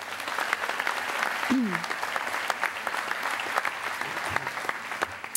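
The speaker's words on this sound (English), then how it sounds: "So give them a round of applause, please." Steady audience applause at a county state-of-the-address event, a dense even patter of many hands clapping throughout, with a brief voice rising over it near the start.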